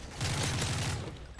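Gunfire in the shooter game Call of Duty: Modern Warfare 3, a loud dense burst of rapid shots lasting about a second, with no talk over it.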